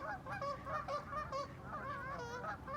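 A flock of migrating geese honks continuously at a distance in a field in Fairbanks, Alaska, many overlapping calls forming a busy outdoor chorus with a low background rumble.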